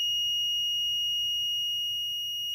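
Arduino-based DIY weather station buzzer during a hardware check-up, sounding a steady, continuous high electronic tone that holds unbroken for the full stretch, alone over a faint low hum.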